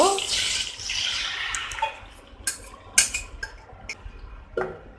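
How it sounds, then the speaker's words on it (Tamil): Watermelon juice mixed with cornflour poured into hot ghee in a pan, a broad hissing splash up front that fades, followed by scattered clinks of utensils against the pan. "இப்போ இதே நெய்யில வந்துட்டு நம்ம கரைச்சி வச்சிருக்கிற இந்த தர்பூஸ் ஜூஸை விட போறோம்."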